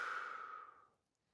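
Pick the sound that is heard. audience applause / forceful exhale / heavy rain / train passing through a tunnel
forceful exhale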